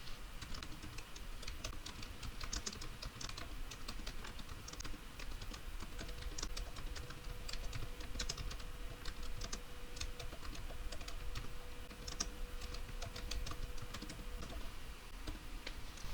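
Steady, soft typing on a computer keyboard continues throughout, a quick patter of key clicks at close range with no talking.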